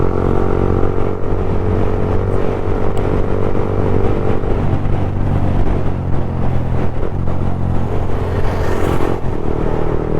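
A Yamaha MT 15 motorcycle's exhaust rumbling loud and steady at close range, the engine held at a constant drone with slight rises in revs throughout.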